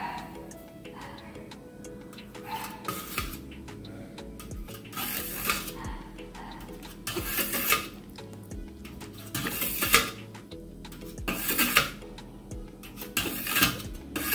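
A knife cuts through set Thai coconut jelly with coconut milk and water layers in a dish, giving scattered light taps and clinks of metal on the dish over a steady background bed.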